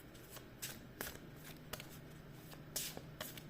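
Tarot cards shuffled for a reading make a series of close, quiet riffling and slapping bursts at irregular intervals, with some soft hand handling between them.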